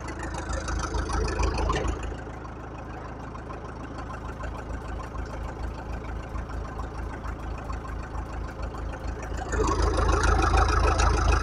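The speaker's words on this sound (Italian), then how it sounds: "È un anno non guido questo trattore." A tractor not driven for a year runs at a steady idle in a sloping olive grove during the olive harvest, a low continuous knocking chug that swells louder near the end.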